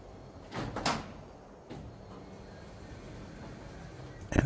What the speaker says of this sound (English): I realize I left the door open.